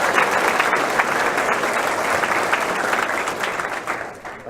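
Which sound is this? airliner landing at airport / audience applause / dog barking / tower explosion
audience applause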